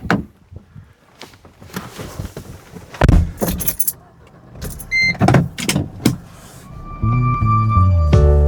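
People get into a car in Switzerland: keys jangle, doors thud and clunk with scattered rustling, then the engine starts and settles into a steady hum.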